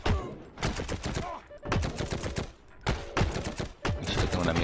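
Bursts of gunfire in the Heroes & Generals video game, four rapid automatic volleys separated by brief pauses, loud and close.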